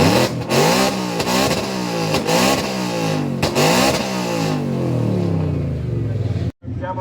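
A Ford Mustang's exhaust roars through repeated hard revs at a burnout and exhaust competition, loud and close, with rising and falling engine pitch before cutting off abruptly near the end.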